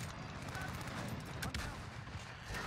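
Gunfire in Call of Duty: Modern Warfare, a quick burst of shots with a sharp crack near the middle over a steady din of battle noise.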